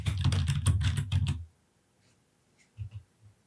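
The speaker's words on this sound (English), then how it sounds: "To do that, I click the Create Database button, type in the database name," Computer keyboard typing a database name, a quick close run of about a dozen key taps lasting just over a second, followed by near silence and a couple of faint soft knocks.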